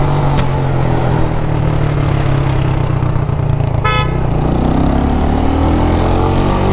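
A motorcycle on a road in Jamaica, its engine droning loud and steady as the rider shifts up through second and third gear, with a brief horn toot near the middle.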